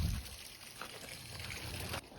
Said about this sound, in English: So we're going to divert some water down there with the hose.